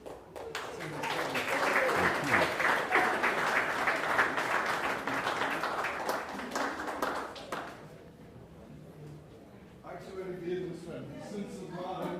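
Audience applause at the WESSA Blue Flag and Green Coast awards ceremony as a site representative is called to the podium, sustained dense clapping for about eight seconds that fades, followed by a speaking voice.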